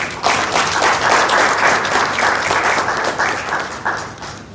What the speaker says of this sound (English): We applaud you, and I would like everybody please to clap for them